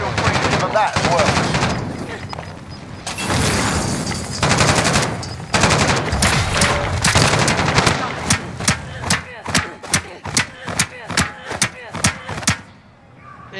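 Call of Duty Warzone gunfire crackles through sustained automatic bursts, then breaks into a steady series of about a dozen sharp, evenly spaced single shots near the end, loud and close with some voices mixed in early.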